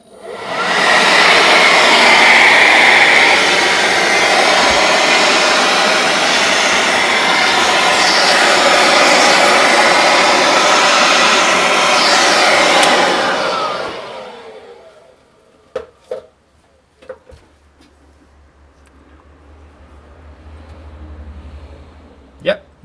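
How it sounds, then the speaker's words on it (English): Air blower blasting a fuel pre-filter from a Mitsubishi Pajero 2.8, a loud steady rushing roar lasting about fourteen seconds before cutting off, followed by a few faint knocks and a low hum. "I'm gonna use a blower to blow it up"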